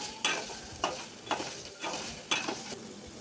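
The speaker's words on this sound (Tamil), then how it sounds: "இப்போ இது எல்லாத்தையுமே நல்லா வதக்கிக்கலாம்." Masala with a bay leaf sautéing in a pan for kudal gravy: a steady close sizzle broken by four regular scraping strokes of a spoon stirring against the pan.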